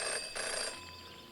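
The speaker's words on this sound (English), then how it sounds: "In her short time as a detective, Jenny had learned never to ignore a ringing phone" In the detective adventure video game Jenny LeClue, a telephone rings faintly with a short bright bell trill that fades into a low hum, and no voices are heard.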